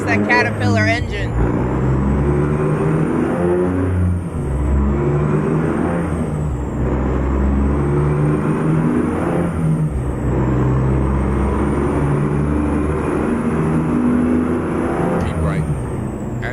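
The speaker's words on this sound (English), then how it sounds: "It's that Caterpillar engine." Caterpillar diesel truck engine in American Truck Simulator with realistic mods, a loud, steady low rumble that runs the whole way with brief hiss bursts at start and end, while someone talks over it.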